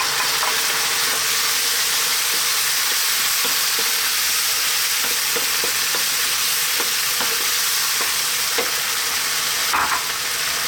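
Chopped tomatoes from a can cooking in a frying pan for a homemade meatball sauce: a loud, continuous hissing sizzle with occasional soft stirring clicks, close and steady, no voices.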